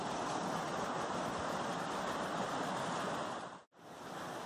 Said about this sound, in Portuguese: isso aqui é a parte de cima da cachoeira.